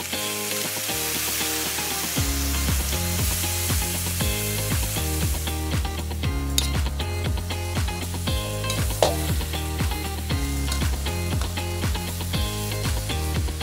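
Frog adobo sizzles loudly in a pan as soy sauce is added, a dense continuous frying hiss with rapid crackling pops, close by and with no talking.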